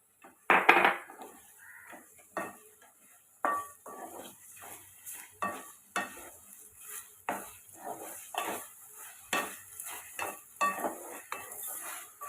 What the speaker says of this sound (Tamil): இப்போ சிக்கனுக்கு தேவையான உப்பு போட்டு வதக்கி விட்டுக்குருவோம்